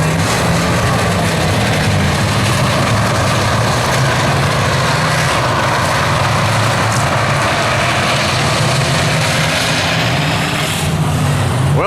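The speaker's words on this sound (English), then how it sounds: "When you see Danny pull out on the tractor like that" A tractor engine runs steadily and loud at a night race event, a heavy low rumble holding throughout with little change, with no voices over it.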